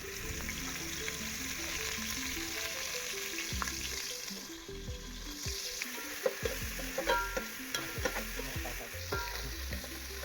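Ginger garlic paste fries in a hot pan, a continuous close sizzle broken by frequent spatula scrapes and clinks, growing busier in the second half, with no talking.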